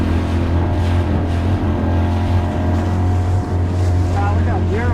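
A motorboat pushes through choppy water, a steady low engine drone with wind buffeting the microphone and splashing hull slaps, while a voice is faintly heard over the noise.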